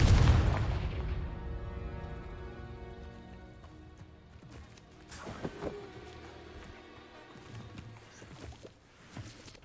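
A Confringo blasting spell in Hogwarts Legacy goes off as a loud deep boom that decays over several seconds, followed by a second, smaller burst and scattered impacts under a musical game score.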